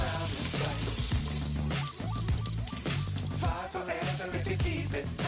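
Shredded carrot and onion sizzling in a heated pan for lazy cabbage rolls with bulgur, a soft continuous frying hiss with light stirring over steady background sound.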